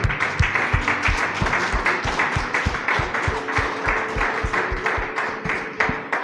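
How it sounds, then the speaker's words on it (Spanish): Church congregation applauding together, a loud and steady run of sharp hand claps falling into a brisk rhythm for several seconds, close and dense, with no talking over it. "Le damos un aplauso al Señor."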